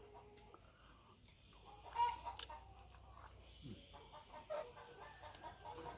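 Soft clucking from chickens in the distance, with a rooster-like call rising briefly, over a faint outdoor background hum.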